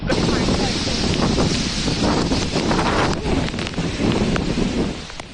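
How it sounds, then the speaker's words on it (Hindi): Strong cyclone wind roars continuously through bending trees, buffeting the microphone with loud gusts and rustling, with no pauses across the stretch. "इतनी तेज हवा है कि कई बिजली के जो पोल है वो भी गिर गए हैं।"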